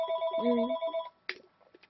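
A telephone rings with a bright electronic tone lasting about a second, followed by fainter clicks and a short burst as the ringing cuts off, close and clear with no speech.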